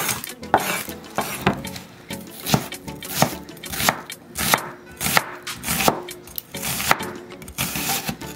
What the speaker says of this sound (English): Chop the onions.